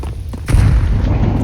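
A grenade goes off in Counter-Strike 2 on the Inferno map at A site: a sharp boom lands about a third of the way in, then a heavy low rumble sustains loudly to the end.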